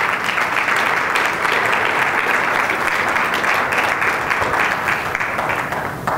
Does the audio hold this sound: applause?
yes